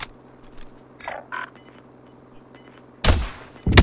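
Gunfire in Call of Duty: Warzone, quiet handling noises and faint clicks giving way to two loud, close bursts of shots near the end.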